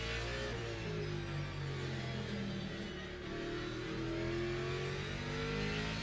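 A race car engine in the sim racing game Le Mans Ultimate drones and revs steadily, its pitch rising and falling with gear changes, loud and alone with no talking.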